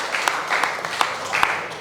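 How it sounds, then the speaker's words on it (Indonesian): Schoolchildren in a mathematics class applaud group 5, with a short, moderately loud patter of clapping that swells and dips in uneven waves. "Beri tepuk tangan untuk kelompok 5"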